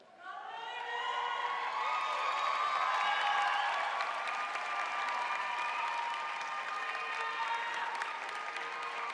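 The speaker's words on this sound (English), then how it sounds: "all that cheering" A commencement crowd bursts into sustained applause and cheering, a dense wash of clapping that swells quickly and holds steady for several seconds, with scattered shouts in a large hall.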